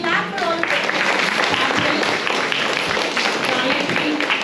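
Steady applause from a temple audience clapping for children after a musical performance at a Swaranjali event at Bhadrakali Temple, Hoskote, a dense continuous patter of many hands lasting several seconds, with faint background voices.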